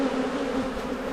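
Honey bees drone in a dense, steady buzz at an open hive in an Australian apiary, close and continuous with no voices.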